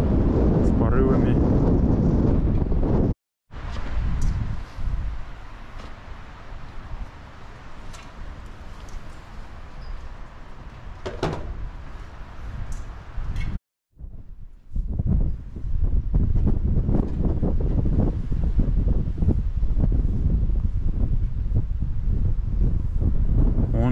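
Blustery wind buffets a microphone in strong, uneven gusts with deep rumbling, briefly cutting out twice before surging back loud, outdoors by the Eskeldi Bi mausoleum and a cemetery in Eskeldi Bi village, Karatal District, Zhetysu Region.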